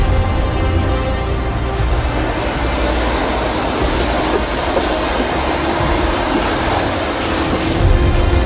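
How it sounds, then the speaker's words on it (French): Large ocean waves breaking off the coast of Sri Lanka make a loud, continuous low roar and rumble that carries through the whole stretch without any talk. "il y a des sacrées vagues à passer là quand même"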